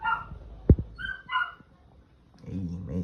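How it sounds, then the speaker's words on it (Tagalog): A pet dog barking close by indoors, a sharp loud bark followed by a few yips and whimpers, with a person talking over part of it. "Ang ingay na ng aso ko, no?"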